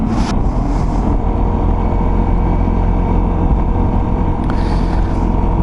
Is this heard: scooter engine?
yes